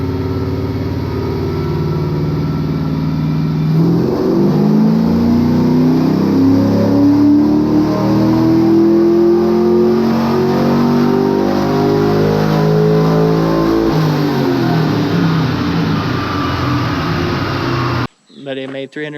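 A stock LS 5.3 V8 revs on a dyno, its loud engine note climbing steadily through a long pull before cutting off abruptly, followed by a brief bit of talk.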